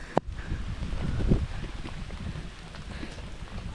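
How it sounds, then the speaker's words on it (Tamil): Steady rain pours outdoors on a hillside at a Buddha temple near the Tamil Nadu border, a dense hiss with a sharp knock near the start and some wind buffeting the microphone. "மழை வேற வருது மக்களே."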